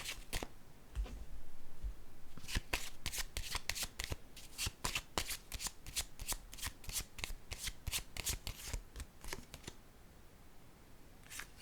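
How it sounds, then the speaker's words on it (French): A tarot card deck being shuffled by hand, a long run of crisp, rapid riffling flutters and card snaps, close and fairly loud, with no voices. "Attendez une minute, je vais piger une autre carte."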